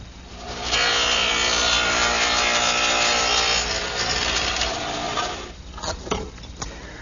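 Dado head cutter running through wooden partitions on a table saw for a Delft rack, a loud sustained whine and rasp for several seconds that fades, followed by a few brief knocks and scrapes.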